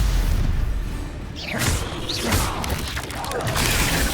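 Spell blasts crackle and whoosh through Hogwarts Legacy combat, with a low rumbling bed and several sharp bursts and swishes arriving in irregular succession, fairly loud and close.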